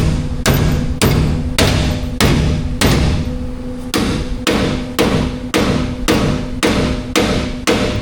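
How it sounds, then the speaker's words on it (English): Hammer blows ring out on a car part of a supercharged LS Chevrolet Tahoe, about a dozen loud, close metallic strikes in an uneven steady rhythm with no talking. "Beat it until it fits."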